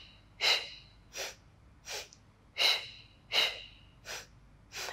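During a Pilates mat exercise, a person breathes in clearly audible, forceful breaths. Seven distinct breathy bursts come at a steady, roughly one-per-second rhythm, close and alone against quiet.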